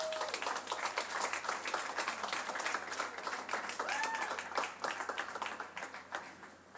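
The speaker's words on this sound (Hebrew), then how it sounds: "קבלו אותה, תנו לה כפיים" An audience at a live concert applauds a singer-songwriter onto the stage, sustained dense clapping at moderate distance with a couple of faint whistles, fading slightly near the end.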